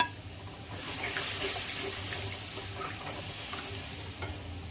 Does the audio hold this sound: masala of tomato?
yes